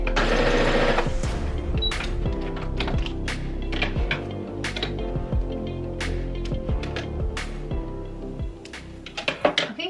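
A sewing machine backstitches the waistline of a ribbon-trimmed tutu, with short bursts of rapid mechanical stitching and sharp clicks close by, broken by brief pauses.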